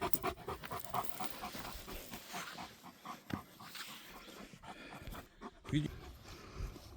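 A tired yellow dog pants rapidly and unevenly nearby, with people talking over it throughout.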